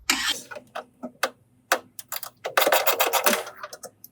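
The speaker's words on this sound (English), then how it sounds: "we're going to take our 1/2-inch socket on an extension, and we're going to loosen the cap that's on our drain port right there." A half-inch socket on an extension works a drain port cap loose on a benchtop system, giving a series of short, close ratcheting and scraping bursts with brief quiet gaps in between.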